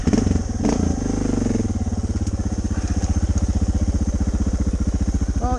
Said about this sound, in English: Well, you know, I am riding a DR today.